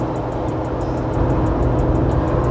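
A Jeep Wrangler JKU cruises on a highway in sixth gear at around 70 mph with fairly high RPMs, making a steady, continuous engine and road drone.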